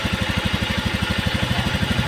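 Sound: Honda Beat FI scooter engine rough idling, faulty TPS

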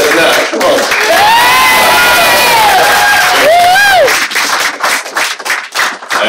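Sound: audience applause and cheering for a dancing couple

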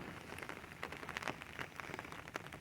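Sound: heavy rain falling

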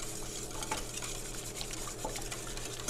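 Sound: whisking eggs in a bowl

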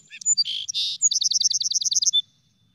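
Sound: song sparrow singing

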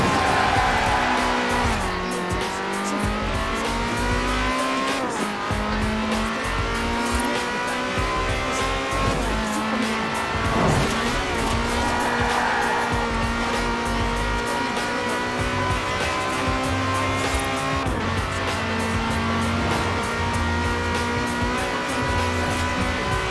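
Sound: Lamborghini Countach engine and tire squeal in video game Forza Horizon 4

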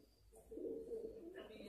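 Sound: pigeon cooing

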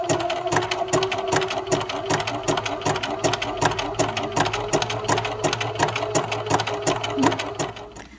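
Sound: sewing machine stitching ribbons together

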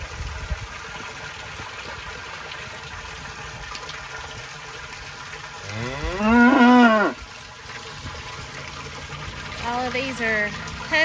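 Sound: heifers mooing

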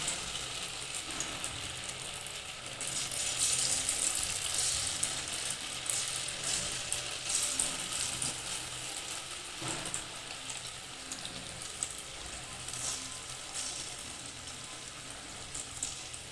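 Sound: pakoda batter frying in hot oil

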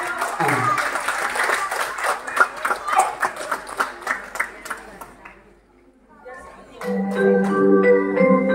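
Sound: applause for the children at a graduation

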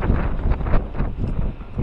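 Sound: light wind at Maspalomas, Gran Canaria

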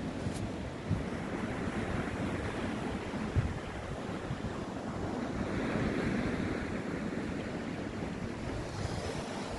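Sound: beach waves and wind on an English beach

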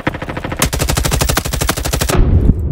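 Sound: M4 rifle gunfire in the Roblox video game Frontlines

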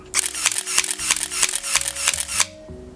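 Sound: SLR camera continuous shooting burst

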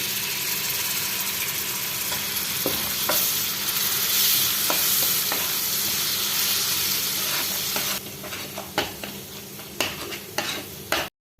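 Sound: stirring fish pickle masala with vinegar in a pan

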